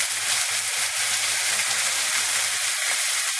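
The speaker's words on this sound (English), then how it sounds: "I'm going to lay the steak down into the pan." A steak sears in a hot pan over medium to high heat, giving a steady, close sizzle and hiss broken by brief crackling spits, continuous throughout.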